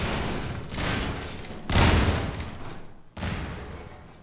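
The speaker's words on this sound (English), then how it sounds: "the explosions should be able to kill all of the zombies that were in this hallway" Explosive barrels blow up in Half-Life 2, a series of heavy booming blasts close by, one after another with short decays and a brief gap before the last one.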